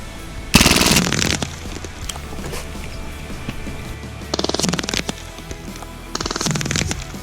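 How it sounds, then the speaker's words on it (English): A Hatsan Blitz .30 caliber PCP airgun fires full-auto bursts: one loud rapid rattling string early on, then two shorter bursts later, with quiet mechanical handling sounds between them. "We need to go ahead and hate dump this mag real quick"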